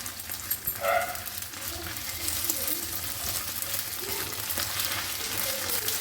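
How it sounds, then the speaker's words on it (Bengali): Ginger garlic paste and onions fry in a pan for a quick egg curry, a moderate continuous sizzle with light stirring, while a dog barks briefly in the background early on. "আদা রসুনের কাঁচা গন্ধ চলে যাওয়া পর্যন্ত ভেজে নিয়েছি"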